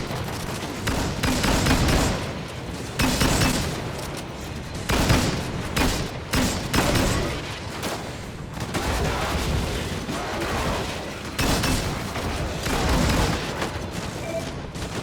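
Dense gunfire from the video game Disintegration, sustained bursts and heavy booming volleys rolling on with short lulls, loud and close throughout.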